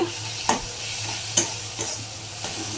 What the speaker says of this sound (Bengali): তিনজনের তিনটে পোচ পোচ করে ঝাল করছি